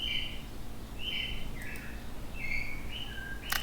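Birds chirp outdoors in short bright calls, several separate chirps spread across the moment, moderately clear over a steady low background hum.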